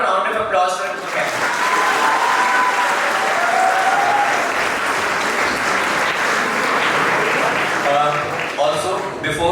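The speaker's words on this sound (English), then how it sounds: "Can we have a round of applause for Mukesh?" Audience at a school Model UN closing ceremony at St Joseph's College, Nainital, claps in sustained, dense applause lasting several seconds, with a voice speaking over the start and end.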